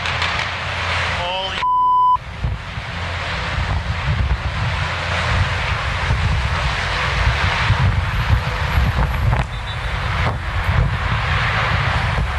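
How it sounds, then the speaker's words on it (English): Military-style helicopters fly over the 395 highway in downtown Miami at night, a continuous low rotor and engine rumble that stays steady and fairly loud throughout, with a brief beeping burst near the start and wind buffeting the microphone. "military-style choppers, flying over 395 in downtown."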